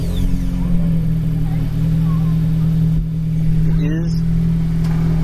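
A 2022 Honda Civic Si engine idles and drones steadily from inside the cabin with a quiet stock exhaust, a constant low hum running throughout while people talk over it.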